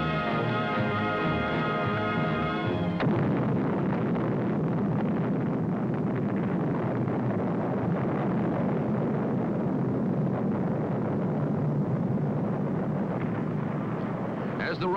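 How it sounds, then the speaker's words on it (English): A Gemini 7 rocket lifting off in 1966, a deep continuous roar that swells in after a tonal opening and then holds steady and powerful for more than ten seconds. "As the rocket lifts off"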